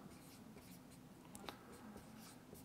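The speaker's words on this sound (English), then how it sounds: "So let me write that down." Faint pen strokes scratch softly and continuously as notes are written down, low in level against a steady background hiss.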